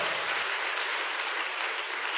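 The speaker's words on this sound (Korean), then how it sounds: "박수 한번 쳐요, 우리." A church congregation breaks into sustained, dense applause, the clapping loud, even and continuous from start to finish with no voices over it.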